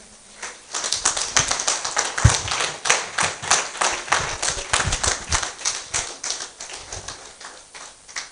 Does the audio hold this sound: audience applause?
yes